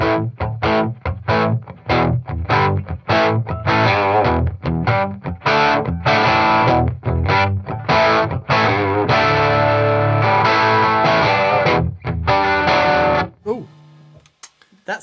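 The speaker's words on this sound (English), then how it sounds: "So, there's the colour box to play for us." Electric guitar played through a JHS Colour Box preamp pedal: loud, driven chords strummed in a choppy, rhythmic pattern for about thirteen seconds before the ringing dies into near quiet.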